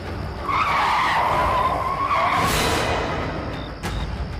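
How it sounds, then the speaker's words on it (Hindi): A car skids hard to a stop with a loud, sustained tire squeal lasting a few seconds, ending in a sharp screech, heard alone with no voices. "गाड़ी रोक दी, क्योंकि रियर व्यू मिरर में एल्बर्ट खुद को"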